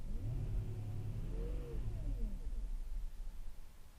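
A 1999 Audi A8 with a 4.2 V8 and a low idle revs up, the engine rumble sagging and nearly stalling before pulling away, heard up close and steady throughout with no talk over it.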